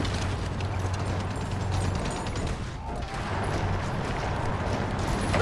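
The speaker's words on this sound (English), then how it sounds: "Oh, those are German panzers." German panzer tanks in a war video game, heard as a steady, dense mechanical clatter of tracks and gears with a low engine drone, continuous and fairly loud throughout with a brief dip midway.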